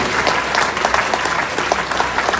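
Loud, dense audience applause at a Paris event with Charles Blé Goudé, steady clapping filling the room throughout with scattered crowd noise.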